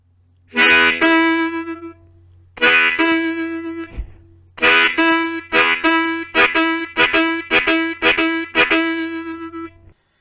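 Blues harmonica playing a song phrase: a draw chord on holes 1-3 moving to the 2 draw. A sustained chord is followed by a run of short, punchy, rhythmic chord stabs, played close and alone.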